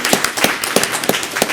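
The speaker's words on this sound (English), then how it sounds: "thanks again. With an applause." Claps ring out in a quick, steady rhythm at a meeting, a short burst of close, sharp hand claps lasting under two seconds.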